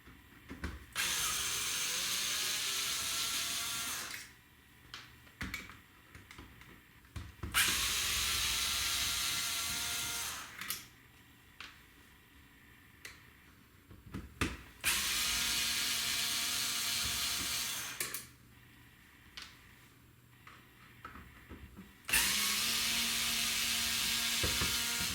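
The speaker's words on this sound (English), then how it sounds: "Then there are 4 screws, 1, 2, 3 and 4 that we need to remove." Screws being removed from a Philips DCC car stereo with a power driver: several long whirring bursts separated by pauses filled with small clicks and handling knocks, close by and with no talking.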